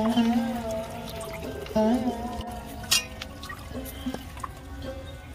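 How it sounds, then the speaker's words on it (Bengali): Water running and dripping while sliced kohlrabi is washed in a kitchen, with splashes, trickles and a few clinks of a bowl, fairly close and moderate in level. "জল দিয়ে ভালো করে ধুয়ে নেব।"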